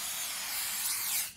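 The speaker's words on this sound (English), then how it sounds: "Give him the old mouse spray." Aerosol mouse spray fired at rats in a convenience store video game, a steady high hiss lasting over a second before cutting off, close and alone with no talk.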